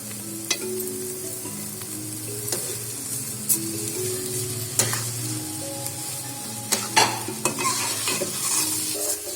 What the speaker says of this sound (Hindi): चमचे को आप मुसलसल हिलाते रहें और ताकि इसमें चीनी अच्छे से मिक्स हो जाए